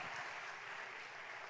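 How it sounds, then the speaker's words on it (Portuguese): Applause from a church congregation, a steady wash of many hands clapping at a distance, fairly faint and even throughout. "quer aplaudir, aplauda e glorifique, aplauda teu Pai que está no céu"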